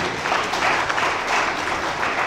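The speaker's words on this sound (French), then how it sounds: "Applaudissez pour lui, merci beaucoup." An audience at an official film premiere for a Simon Kimbangu film applauds in his honour, a brief burst of steady crowd clapping.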